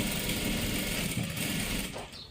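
A sewing machine stitching a salwar top, a steady close mechanical whirr with a rapid needle rhythm running continuously before slowing and stopping at the end, no talk.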